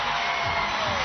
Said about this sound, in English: The crowd likes that one.